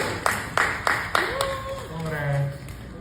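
Several sharp, evenly spaced claps ring out on a Marathi TV game show set as a contestant is crowned, mixed with a voice and sustained tones over a steady background.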